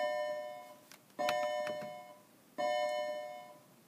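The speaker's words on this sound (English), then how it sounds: "that was the bell ringing" A ringing bell, likely a school or door bell, sounds two clear, sustained tones about a second and a half apart. Each strike decays slowly in a quiet room with no talk.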